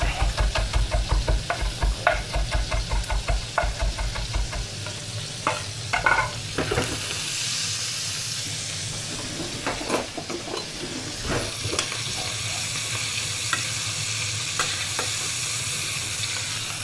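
Onions frying in a pan after pancetta, starting with a rapid series of scraping stirs over a sizzle, then a steady loud hiss of frying with occasional spoon knocks, close by.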